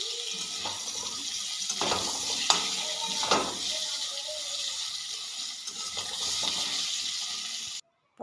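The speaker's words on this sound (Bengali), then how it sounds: "এবারে আলুগুলো আমি ভাজবো।" Potatoes fry in hot oil in a home kitchen pan, giving a steady moderate sizzle with occasional stirring scrapes and clinks, then a brief drop to silence near the end.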